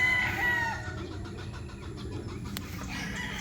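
Young gamecocks bred from a breeder's roosters: a short crow rings out near the start, then quieter clucking and yard noise follow, with no talking.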